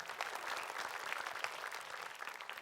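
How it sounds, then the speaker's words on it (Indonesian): An audience at an Islamic lecture applauds, a dense, even burst of many hands clapping together that carries on without pause for the whole stretch. "Tepuk tangan dulu untuk Hasyam."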